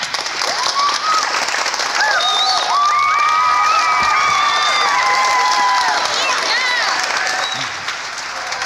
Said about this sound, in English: a round of applause to Miss Dowdy.